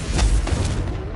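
A Confringo fire spell in the video game Hogwarts Legacy goes off as a short series of deep, booming blasts that repeat quickly and fade into a faint rumbling tail.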